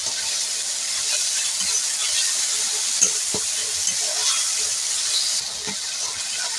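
Chili and turmeric paste loosened with a little water fries in a pan for a banana-flower curry, giving a steady, close, continuous sizzle with occasional soft stirring scrapes and no talking.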